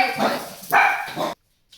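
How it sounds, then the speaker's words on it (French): Dogs bark close by, a few sharp, loud barks in quick succession, ending abruptly before a brief faint sound follows. "Excusez-moi pour les chiens"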